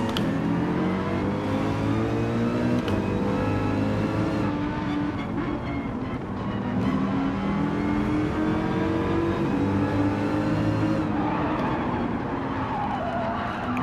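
A race car in a racing game, engine revving steadily with shifting pitch and tyres skidding through corners, loud and close throughout with no break in the engine noise.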